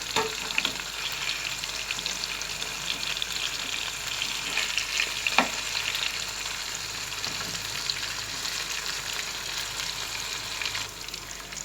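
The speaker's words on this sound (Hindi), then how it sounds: "इस तरह तमाम पीसेस को मैंने कढ़ाई में डाल के फ्राई कर रही हूँ।" Fish pieces fry in a kadhai with a steady, close hiss of bubbling oil over a slow flame, broken now and then by a few light spatters and clinks, with no talking.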